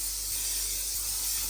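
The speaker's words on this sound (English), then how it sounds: "Let's give them a quick spray." Aerosol hairspray misted over heatless curls, one close, loud, continuous hiss lasting the whole short moment with no talking.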